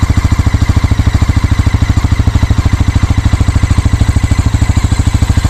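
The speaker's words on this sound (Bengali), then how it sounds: "এটা হচ্ছে আইডিয়াল আরপিএমে আছে এই সাউন্ডটা" A Bajaj Pulsar NS 400Z motorcycle engine idles loud and close, a steady, rapid, even thumping pulse with a faint mechanical clatter and no change in speed.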